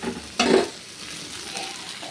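Jackfruit is stirred as it fries in a little ghee: a sharp scraping clatter of a spoon in the pan, followed by a soft, steady sizzle that continues quietly.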